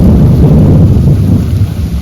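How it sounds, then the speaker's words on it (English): Heavy soaking rain during a night storm in Leakey, Texas, a loud dense continuous roar of rainfall with deep rumbling thunder underneath, no voices. "Just beautiful, perfect rain."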